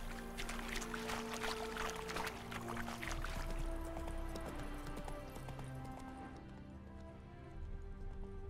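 Geralt's horse Roach trotting in The Witcher 3, a faint steady clip-clop of hooves under a layer of sustained musical tones that fade out toward the end.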